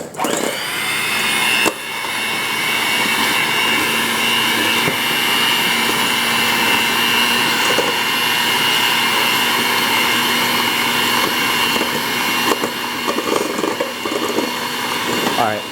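An electric mixer whirs continuously through cream cheese and ground chocolate for chocolate footballs, a steady motor drone with a loud start and brief bumps, while a person speaks over it.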